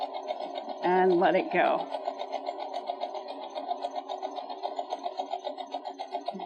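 A sewing machine stitching in a crafting session runs steadily with a fast, even rhythmic pulse, close and fairly loud, after a short spoken phrase at the start.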